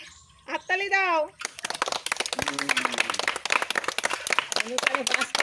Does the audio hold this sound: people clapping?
yes